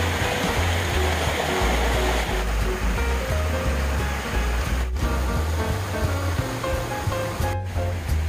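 Water from a mountain valley stream where a reservoir meets the gorge, flowing with a steady, full rushing roar that stays constant and close, with no voices over it.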